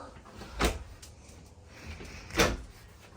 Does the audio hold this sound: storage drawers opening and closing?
yes